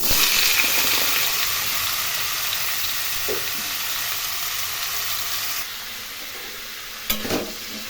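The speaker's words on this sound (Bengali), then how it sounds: "কড়াইয়ে তেল গরম করে এর মধ্যে সাদা জিরে, তেজপাতা এবং একটি কাঁচা লঙ্কা ফোড়ন দিয়ে এর মধ্যে ওলকপিগুলো দিয়ে দিচ্ছি" Kohlrabi pieces fry in hot oil with white cumin seeds, bay leaf and a green chilli, a continuous close sizzle that quietens partway through, then a brief clatter near the end.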